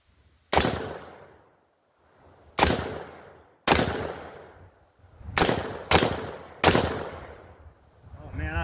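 Black Rain Ordnance AR-15 rifle fired outdoors, six or seven loud, sharp single shots at irregular intervals, each with a long echoing tail.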